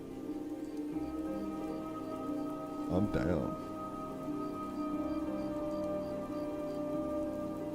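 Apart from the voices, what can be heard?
rain sounds video playing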